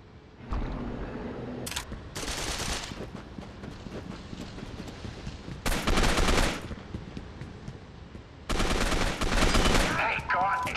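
Bursts of gunfire in the video game Gotham City Impostors, on the Fumigation mode's Crime Alley map: several loud, dense volleys with quieter stretches between them.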